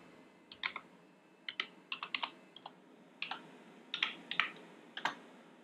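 Commands typed on a computer keyboard at a console, with short quiet bursts of crisp key clicks in uneven clusters, close and alone.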